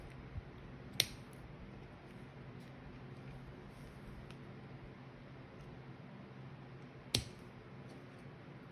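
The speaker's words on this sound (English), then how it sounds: "let's trim the tails of our cord here" Scissors trim the tails of a cord, two crisp snips several seconds apart, close and clear over a quiet background hiss.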